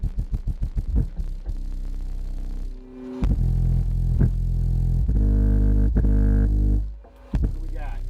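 Telunshi M10 10-inch car subwoofer driven by a Taramps HD3000 amplifier on a dyno test, first thumping in rapid loud pulses, then holding long deep booming tones with brief drops between bursts.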